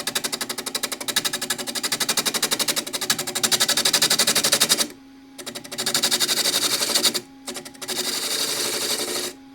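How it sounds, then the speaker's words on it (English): A wood lathe takes a gentle pull cut on the rim of a bowl salvaged from a split piece of firewood. It is a steady, rapid chatter of tool against spinning wood, broken by two short pauses, close and moderately loud. "Gentle pull cut just to get the rim done."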